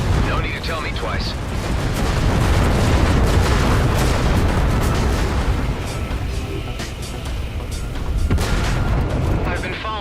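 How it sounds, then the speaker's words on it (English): A large explosion in the space shooter Everspace 2, a loud continuous roar of booming blasts and crackling bursts that swells and churns for about ten seconds, with a voice briefly audible. "Vacate this area at once. Explosion imminent."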